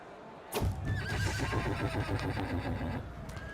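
A horse in Crusader Kings 3 lets out a loud, sustained whinny that begins abruptly and trails on for about three seconds, with hooves clopping faintly beneath it and no voices.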